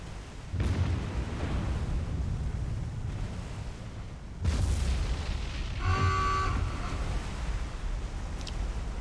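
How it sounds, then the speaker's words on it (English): A few deep ammunition explosions in the naval video game War on the Sea roll out of a steady windy rumble, one near the start and a stronger one midway, distant-sounding and followed by brief metallic ringing. "ammunition explosions in this game just seem so much easier"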